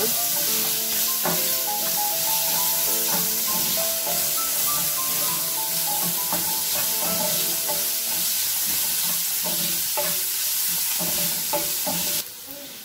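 Onions sautéing on a hot griddle for chicken kothu chapathi, a loud continuous sizzle broken by repeated scraping and clinking of a spatula against the metal surface, cutting off near the end.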